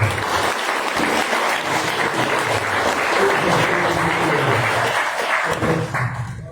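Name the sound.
congregation applause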